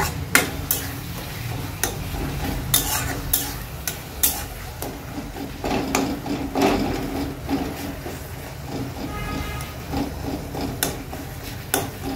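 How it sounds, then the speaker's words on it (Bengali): Tomatoes being mashed and stirred in a hot pan while cooking, heard as repeated scraping and pressing scrapes against the metal over a continuous low sizzle. The sound is close and steady, with sharper clacks now and then. "টমেটোটা একটু স্ম্যাশ করে নিব ভালোভাবে"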